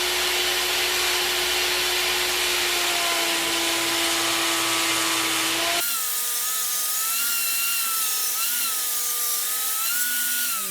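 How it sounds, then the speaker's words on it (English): A power saw cuts a long groove into wood stock for a flooring transition, a steady loud whine with a tone shift partway through as the cut changes, running continuously with no talk. "so I'm going to make this first cut."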